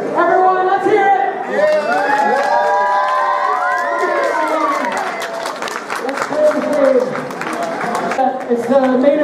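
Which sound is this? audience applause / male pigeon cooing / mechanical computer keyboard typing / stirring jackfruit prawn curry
audience applause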